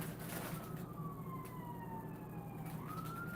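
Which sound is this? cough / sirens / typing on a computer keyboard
sirens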